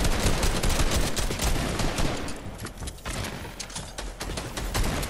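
Dense, continuous gunfire from a video game tournament match, a loud sustained barrage of overlapping shots with no talk over it.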